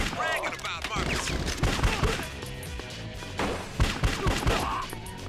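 Rapid bursts of gunfire from a GameCube shooter, loud and close with overlapping shots and impacts, mixed with game sounds and voices speaking over the action.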